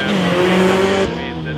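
Rally cars race on a track at the Norrlandsveckan event in Piteå, a steady loud engine roar with a shifting pitch that drops as a car passes.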